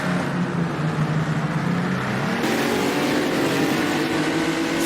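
A 1959 Aston Martin vintage sports car engine in a racing video game drones steadily and loudly throughout, with a pitch shift midway as the car changes gear or speed on a California highway course.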